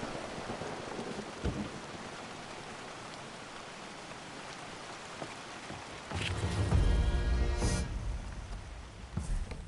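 Constant rainfall in the GORD video game, broken by a heavy crack and rumble of thunder near the end that swells loudly and then eases.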